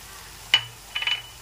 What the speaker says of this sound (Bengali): ঝাল লঙ্কার গুঁড়ো আর হলুদ গুঁড়ো দিয়ে মশলাটাকে আরও একটু নেড়েচেড়ে কষিয়ে নিচ্ছি